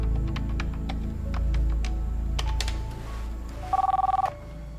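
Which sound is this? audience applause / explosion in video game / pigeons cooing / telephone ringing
telephone ringing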